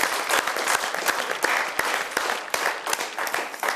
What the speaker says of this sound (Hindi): तो आपके इस स्टाइल के लिए हम एक बार जरा जोरदार तालियां बजा दें।